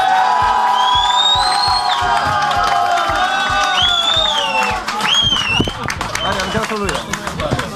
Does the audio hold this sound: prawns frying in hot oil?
no